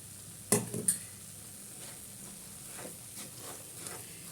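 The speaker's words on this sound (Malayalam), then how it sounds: "കുറേശ്ശെ ഒഴിച്ച് കൊടുത്തിട്ട് നമുക്കൊന്ന് മിക്സ് ചെയ്തെടുക്കാം" Ghee and Amrutham powder for Mysore pak being stirred in a pan on low flame, two sharp utensil knocks against the pan at the start, then a soft low sizzle with faint scraping strokes.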